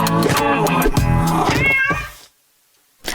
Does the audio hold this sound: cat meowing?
yes